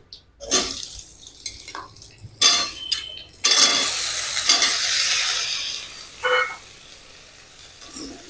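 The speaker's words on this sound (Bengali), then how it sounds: "এই তেলের মধ্যে দেব এই কেটে রাখা কচুরগাটি।" Cut white taro stolons dropped into hot oil and frying, with bursts of sizzle, stirring and scraping against the pan between quieter stretches, close by and with no talk.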